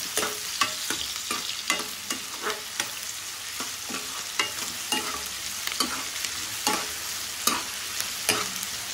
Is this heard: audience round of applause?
no